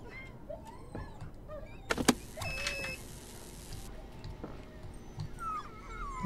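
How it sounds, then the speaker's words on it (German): Dogs whimper and whine faintly in the horror video game Mists of Aiden, with thin rising whines amid quiet ambience and a sharp clatter partway through. "Die haben Hunde, Alter."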